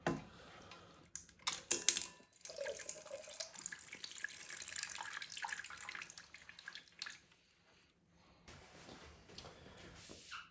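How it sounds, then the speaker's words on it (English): Water drains out of a PC water-cooling radiator in an O11D XL case, a faint, close trickle and splatter with clicky handling noises, stopping briefly before dribbling again. "as you can see it's leaking some water. So the same thing, I'll just drain it out."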